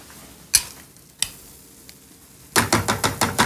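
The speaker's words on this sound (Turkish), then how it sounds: "Şimdi bu şekilde cevizleri de güzelce karıştırıyorum" Spoon stirring walnuts with tomato paste in a bowl, starting with a few sharp isolated clinks, then a rapid run of close scraping, clacking strokes.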